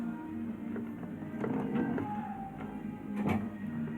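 Butterfly sewing machine forward stitching through fabric after a loose feed regulator repair, a steady mechanical whir with faint ticking and a few sharper clicks, fairly close and continuous.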